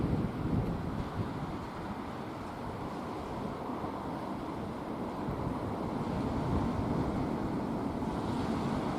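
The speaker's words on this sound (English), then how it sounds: "I really wanted to just capture the sound of the waves." Sea waves wash in a steady roar at the seaside in Llandudno, Wales, with wind buffeting the microphone and no voices.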